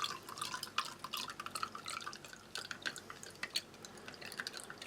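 Cold water trickles and drips into a glass, a light splashing with small clinks, close and fairly quiet, no voices.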